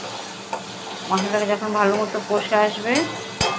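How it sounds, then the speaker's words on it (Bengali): Spice masala for gandharaj paneer sizzles in oil in a pan while being stirred, with scraping strokes and soft clinks of a spoon against the pan over a continuous close-up frying crackle. "মশলা দেখো আস্তে আস্তে ভালো মতো কষে আসছে, তেল ছেড়ে দিচ্ছে"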